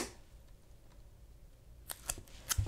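Scissors make a few quick crisp snips through a paper print near the end, close and quiet, with a faint room background beforehand.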